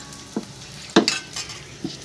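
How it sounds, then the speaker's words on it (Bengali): Potatoes frying in hot oil in a pot on a clay stove, a low steady sizzle with a few sharp metal stirring knocks and scrapes close by. "আলু আলু দেওয়া মাত্র ভাজা হয়ে গেল।"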